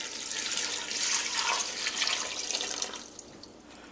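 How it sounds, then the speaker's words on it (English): Plain tap water pours steadily into a pot for a rum punch made with cranberry and sorrel, a continuous close splashing rush that eases and thins near the end. "Now we're gonna go in with the liquid, and the liquid is just plain old tap water"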